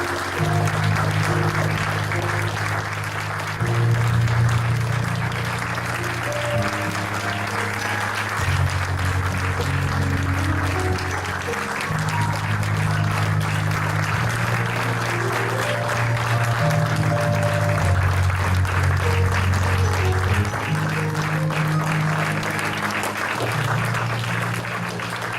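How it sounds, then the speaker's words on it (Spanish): Steady, sustained audience applause greets someone being welcomed at a live event, a dense continuous wash of clapping with music playing underneath throughout. "Dale una bienvenida, un fuerte aplauso."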